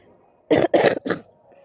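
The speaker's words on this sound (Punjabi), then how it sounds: "ਖਾਂਸੀ ਠੀਕ ਨਹੀਂ ਹੋ ਰਹੀ ਹੈ ਖਾਂਸੀ ਖੰਗ ਕਰਦੇ ਆ" Three quick, harsh coughs in a row from one person with a persistent cough, close and loud, with quiet before and after.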